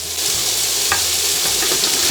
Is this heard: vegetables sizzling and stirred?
yes